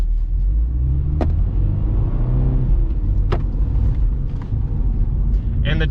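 A 2022 Subaru BRZ engine droning steadily as the car is driven in track mode, with a low rumble and some throttle changes under people talking inside the cabin.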